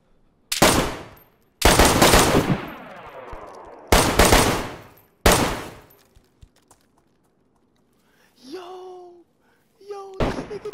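Gunfire in a multiplayer video game deathmatch: four loud, close bursts of shots in quick succession, each ringing out and decaying, then a quieter stretch with faint tonal game sounds before one more sharp shot at the end.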